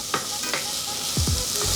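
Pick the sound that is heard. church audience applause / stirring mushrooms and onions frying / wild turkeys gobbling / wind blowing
stirring mushrooms and onions frying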